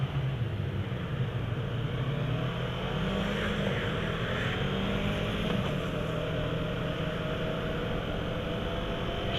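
A 2015 Yamaha R3 motorcycle runs at higher RPMs while riding, a steady, droning engine tone blended with heavy wind rush, continuous and fairly loud with no speech.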